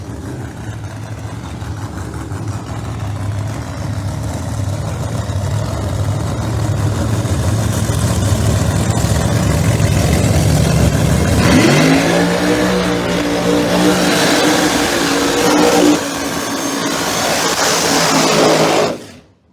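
Two ProMod drag race cars, one with a ProCharger and one with a screw blower, idle loudly and close by, then rev hard in rising bursts before the roar cuts off abruptly.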